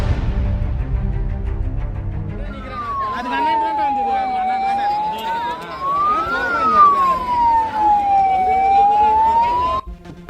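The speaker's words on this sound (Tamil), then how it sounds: "வாகனங்கள் ஆங்காங்கே நின்றதால் கூட்ட நெரிசலில் சிக்கி தவித்த ஆம்புலன்ஸ்." An ambulance siren wails, sweeping slowly up and down, loud and close, as the ambulance is stuck in congested traffic in Chennai, over a steady rumble of road traffic and engines.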